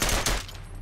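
Full-auto machine gun fire from a WW1 video game, a loud, close, rapid burst of shots that dies away within a second.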